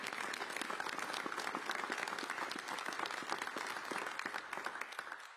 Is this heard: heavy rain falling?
no